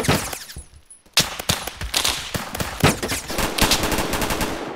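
Sniper rifle fire in a Roblox shooter game, a series of sharp, loud cracks in quick succession, some overlapping into bursts, with a brief quiet gap near the start and no talking.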